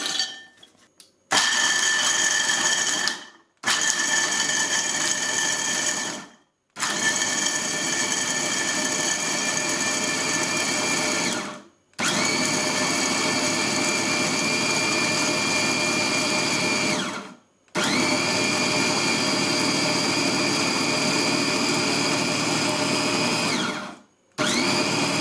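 Amzchef 300W 900 ml electric food chopper chopping hazelnuts, running in five loud whirring bursts of several seconds each, separated by brief silent pauses, with a high motor whine over a rattling grind.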